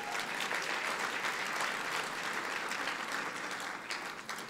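Dense, steady applause from a large audience at a trade awards dinner, continuous and fairly distant, holding evenly and easing slightly at the end.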